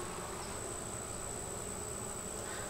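A dense, steady buzz of honeybees at a beehive's guardian entrance holds close and constant throughout, with no voices.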